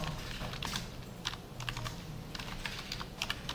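Computer keyboard keys pressed in a quick, uneven run of light clicks, close and fairly quiet over a low background hum, with no talking.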